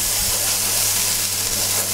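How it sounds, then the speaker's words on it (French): Courgette crackling and sizzling in a pan as white stock is splashed in to deglaze, a dense steady hiss filling the space loudly and continuously with no voices. "il faut tout le temps que ça crépite"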